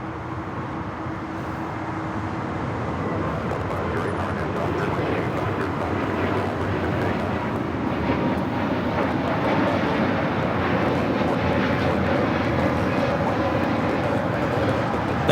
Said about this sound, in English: Spirit Airlines 754 taking off to New Orleans on the A320neo